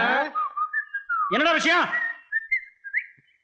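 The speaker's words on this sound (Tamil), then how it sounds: "அதான் பதில் கூட விசில்லே வருது" A man whistles a bright, wavering melody in a Tamil comedy scene, with clear rising and falling tones before and after a brief spoken question, close and fairly loud.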